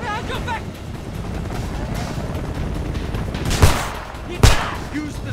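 Gunfire in the video game Homefront, a continuous wash of shooting with two sharp, louder shots standing out near the end, heard alongside game noise.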